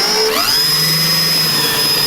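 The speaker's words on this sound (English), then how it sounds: "So we get our drill bit in here." A loud, steady power drill whine with a high pitched tone, drilling quarter-inch holes, its pitch dipping briefly near the start as if the motor is under load.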